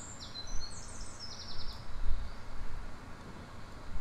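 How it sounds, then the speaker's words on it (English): Faint, high-pitched bird peeps come from outside a house, a few short chirps in quick descending runs near the start, heard over a steady low rumble and hiss. "We're hearing bird noises, peeps."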